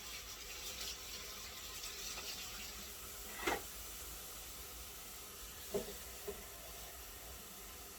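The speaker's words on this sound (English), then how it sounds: "I'm going to add water to it." Faint, steady rush of water pouring into a pot of pink-eye beans with ham hocks continues throughout, broken by a couple of soft metallic clinks.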